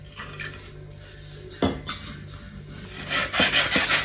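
An old iron griddle scrubbed hard with coconut husk, giving rough rasping scrapes interspersed with metallic knocks, growing louder and busier toward the end.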